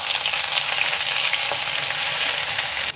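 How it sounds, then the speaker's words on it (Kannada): Ginger garlic paste frying in a pan for a creamy malai chicken, a dense, continuous hiss of hot oil with faint stirring scrapes, close and steady throughout. "ಸೊ ಅದನ್ನು ಹಾಕ್ಕೊಂಡು ಹಸಿ ಸ್ಮೆಲ್ ಹೋಗೋವರೆಗೂ ಸ್ವಲ್ಪ ಫ್ರೈ ಮಾಡ್ಕೊಳ್ಳಿ."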